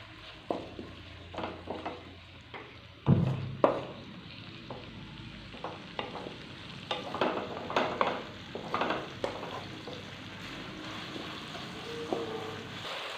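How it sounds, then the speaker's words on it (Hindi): Onions sizzle steadily as they brown in a hot pan while a utensil stirs and scrapes, with intermittent clinks and knocks against the cookware; no talking. "प्याज को हम अच्छे से ब्राउन करेंगे"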